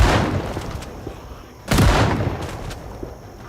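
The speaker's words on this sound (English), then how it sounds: "Next we've gone up a gear. We've got the shotgun." A shotgun blast in the Project Zomboid video game: one loud, sharp game gunshot with a booming tail, preceded by a softer noisy rumble of game ambience.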